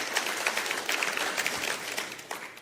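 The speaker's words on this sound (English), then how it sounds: "You ought to give them a hand clap of appreciation right there." Church congregation clapping in appreciation of the media ministry, a steady moderate round of applause with no talk over it.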